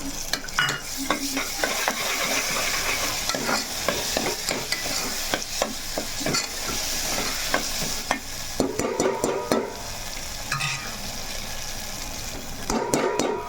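Ginger-chilli paste with green chillies frying for a goat leg curry, with continuous loud sizzling and repeated stirring scrapes in the pan, close up and without talk.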